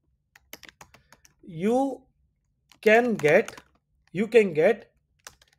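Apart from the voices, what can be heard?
typing a command on a computer keyboard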